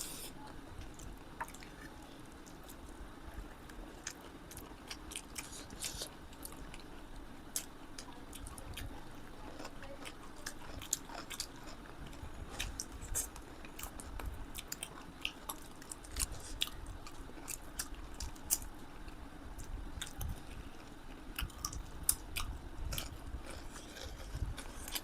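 Soft, close chewing and wet squishing of a chicken and fermented bamboo shoot curry, a steady run of small bites and mouth sounds with no talking.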